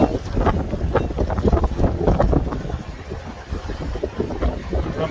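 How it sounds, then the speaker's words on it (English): Strong gusty wind buffets the microphone on a storm chase near McLean, Texas, with rough low roaring bursts that swell and fade continuously, close and loud. "A little breezy here in McLean, Texas."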